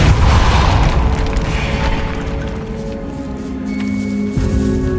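A Depulso force spell blasts in the video game Hogwarts Legacy inside a decaying catacomb, a loud booming burst that rolls into a sustained rumbling roar with ringing tones fading over several seconds.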